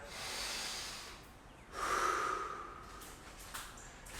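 One deep, audible breath during a lower body mobility exercise: a soft, airy exhale, a short pause, then a stronger hissing breath through the nose, close and fairly quiet.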